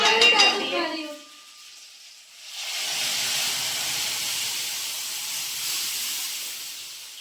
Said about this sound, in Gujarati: અંદર બાફીને દાળ નાખી દઈએ